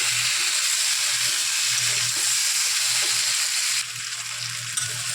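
Spiced masala with a little sugar sizzling and frying in a pan, a steady close hiss with soft stirring scrapes throughout, dropping slightly in level toward the end.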